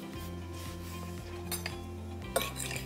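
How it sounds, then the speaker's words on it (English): A spoon clinks and scrapes against a bowl while stirring a chopped herb mixture, with soft repeated taps and one sharper clink near the end over faint background hum. "Give it a stir."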